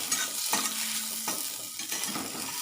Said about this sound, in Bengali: হলুদটা দিয়ে একটু নাড়াচাড়া করে নিচ্ছি।